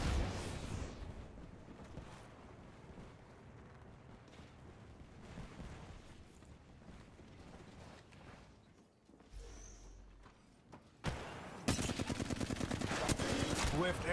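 Rapid automatic gunfire in Apex Legends rattles in quick bursts, faint and distant early on, then a loud close stream of shots near the end, with players talking throughout.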